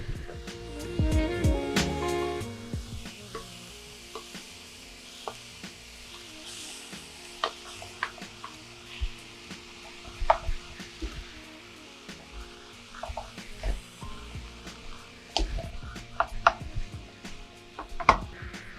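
Vegetables and bean sprouts are tossed in a sizzling frying pan for vegan Indonesian nasi goreng, with soft frying hiss under repeated scraping and clattering stirs, rising to a busier burst early on.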